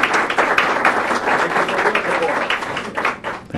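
Dense applause from a crowd at a budget press conference, steady and sustained for a few seconds, with no talking over it.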